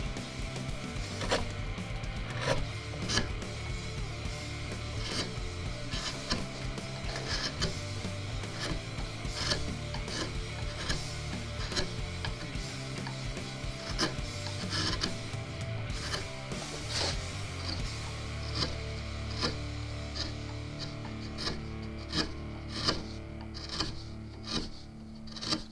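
A wooden guitar neck is carved by hand, with repeated rasping and filing strokes on wood in a steady rhythm, close and fairly quiet, no talk.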